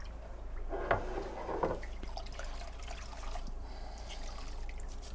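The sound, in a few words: wringing out a rag soaked in cleaning solution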